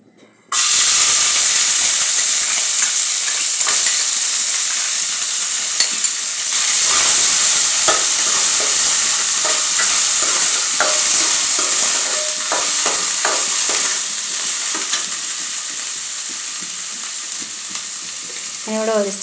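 Chopped coconut pieces fry and get stirred in a pan of ghee for jaggery rava payasam, a loud steady sizzle and hiss running throughout with occasional scraping stir sounds, close up and with no voices.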